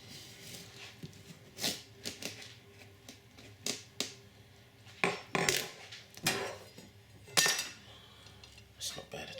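A big kitchen knife cuts into a squash, giving a series of sharp, irregular knocks and cracks of the blade against the hard rind and board, spaced out with quiet pauses between them.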